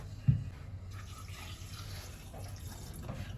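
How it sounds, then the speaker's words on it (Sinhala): Tap water runs steadily into a kitchen sink, a faint, even wash of flow with a small splash near the start and no voices. "අපි මේ එන වතුර දාගන්න යන්නේ."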